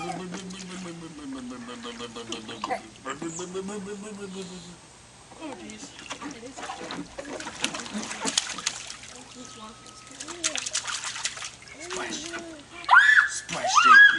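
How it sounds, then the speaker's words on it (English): A child splashes water in a swimming pool, with choppy splashes and trickles running under frequent talking, singing-like voices and giggles from children and adults. "Splash JP."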